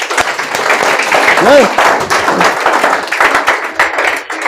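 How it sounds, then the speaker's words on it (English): An audience claps in an uneven, close patter of hands that runs continuously, with voices talking over the applause. "Can we all clap for them?"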